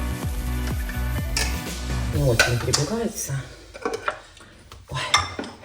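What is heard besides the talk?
chopping parsley with a knife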